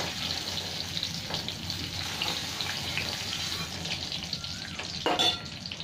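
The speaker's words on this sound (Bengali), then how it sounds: "এই তেলের মধ্যেই একটু তেজপাতা আর গোটা জিরে, একটু ইলাইচি ফোড়ন দেবো" Bay leaf, cumin and cardamom tempering in hot oil, a steady moderate sizzle and crackle with a few stirring knocks and a louder scrape near the end.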